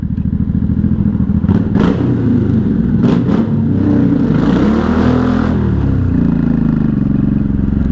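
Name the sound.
1983 Honda Shadow VT750C motorcycle neutral rev in tunnel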